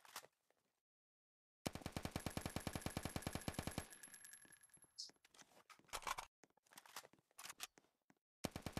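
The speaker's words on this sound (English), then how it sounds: "We got our finished AK." An AK rifle fires in a self-made horror shooter video game: a long rapid automatic burst, then shorter scattered bursts and single shots, loud and close, with no talking.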